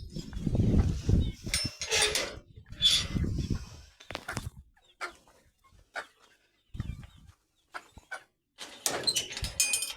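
Goats shuffle and bleat sporadically in a quiet goat shed at night, with rustling, knocks and a door-like clatter between stretches of near silence.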